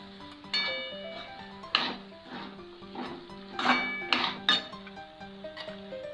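Cauliflower florets go into a pan of gravy and get stirred, with several clinks and knocks of a utensil against the pan over a steady background tone.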